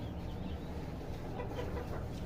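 Chickens on a small farm clucking softly and steadily at a distance, a faint, low murmur of fowl with no other sound.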